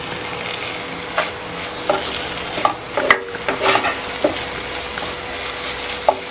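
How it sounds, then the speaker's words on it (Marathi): Tomatoes added to frying masala for a chicken gravy, a steady sizzle in a pan with intermittent spoon stirs and scrapes, close and continuous, no talk. "याच्यावरती आता आपण टोमॅटो टाकून घेऊया"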